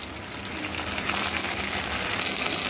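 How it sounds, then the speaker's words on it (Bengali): Onion and ginger paste fry in a pan with a dense, constant sizzling hiss heard up close, unbroken and unaccompanied by speech. "পেঁয়াজটা এইরকম একটু ভাজা ভাজা হতেই এর মধ্যে দিয়ে দিচ্ছি 2 চামচ মতো আদা পেস্ট"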